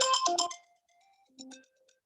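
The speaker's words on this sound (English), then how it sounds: "My phone started ringing, which is connected to my iPad." A phone ringtone, connected to an iPad, plays a short burst of bright electronic chiming notes, then a softer second phrase after a brief pause.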